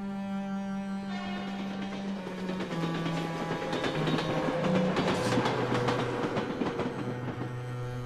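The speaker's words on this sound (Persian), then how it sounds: "صدای برخورد چرخهای قطار روی ریل از ذهنش خارج نمیشه" Train wheels clatter over the rails in a continuous loud rumble, with steady rhythmic clicks and sustained metallic tones running throughout.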